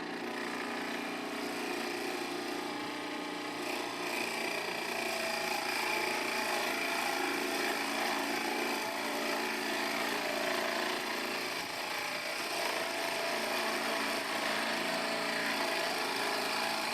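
A Harbor Freight 8-inch benchtop drill press bores into wood, giving a steady, moderately loud motor whir and grinding for the whole stretch, with no talk.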